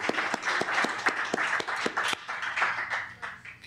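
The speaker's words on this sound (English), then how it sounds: "let's give him another great round of applause" A modest audience at a 1997 poetry recital in the San Francisco Public Library claps for a poet, with sharp, distinct near claps standing out over a softer spread of applause that tapers off.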